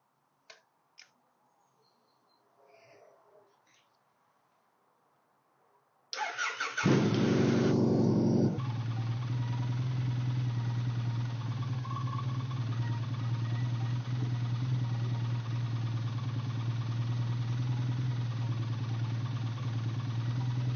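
A Triumph Bonneville T100 motorcycle, under test after an ignition position sensor fault, starts after a few faint clicks and then settles into a steady, loud, close idle that runs on without a break.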